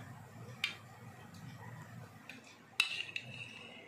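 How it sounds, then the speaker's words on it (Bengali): Utensil scraping and clinking against a pot while ghee-rich khichuri is served, a few sharp isolated taps and clinks over a quiet room, with no talking. "তো এবার চলো আমি আমার খিচুড়িটা বেড়ে নিই"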